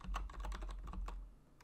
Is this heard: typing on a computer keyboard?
yes